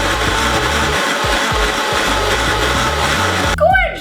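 A blender whirs loudly and steadily, blending the ingredients for homemade mozzarella until smooth, with a brief burst of voice near the end.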